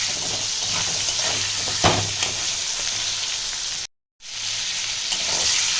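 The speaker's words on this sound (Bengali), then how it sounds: "দিয়ে আমি বেগুনটাকে একটু ভালো করে ভাজবো" Salted, turmeric-coated eggplant frying in a pan: a constant close sizzle and hiss with a few stirring scrapes and a momentary dropout.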